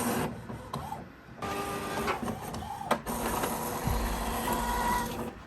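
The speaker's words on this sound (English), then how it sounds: "let's go ahead and do another print head nozzle check, please" An Epson sublimation printer printing a print head nozzle check: mechanical whirring and clicking of the carriage, with short pauses, a sharp click and a low motor hum, close by and without talk.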